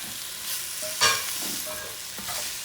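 Meat for a Louisiana-style gumbo with sausage and chicken is stirred in a sizzling pot: a steady fry hiss with a sharp scrape and clank of the spoon near the middle, close and clear, with nobody talking.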